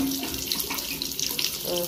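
Water gushes strongly from a tap at a house in the Philippines, fed by a water system from the mountains, a close, continuous splashing stream.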